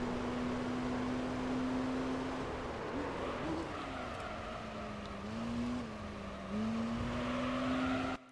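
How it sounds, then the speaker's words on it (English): A race car engine in the Gran Turismo 3 video game holds a steady high drone with small pitch dips and climbs as it revs, loud and continuous throughout. "Also, I over-revved the engine a little there."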